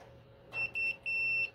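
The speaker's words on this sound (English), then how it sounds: "I've set my multimeter to continuity, so it beeps when there's current" Several short, high electronic beeps from a multimeter continuity test on a dryer thermal fuse, in quick succession, close and clear over a quiet background hum.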